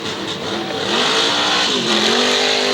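A number 22 SK Modified race car engine fires up and revs at Waterford Speedbowl, a loud, rising, rough motor roar close by with a slight dip then building again, no voices.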